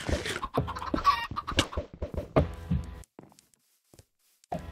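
Chicken in a video game clucking in quick, close, choppy bursts for about three seconds, then near silence with a faint cluck and a final short burst at the end.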